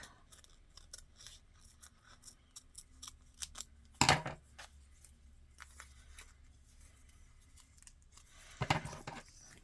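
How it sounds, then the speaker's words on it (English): Scissors cutting a small piece of washi tape for a bullet journal, with two crisp, close snips standing out above quiet handling rustles and light paper crinkling. "I'm going to cut another small bit off."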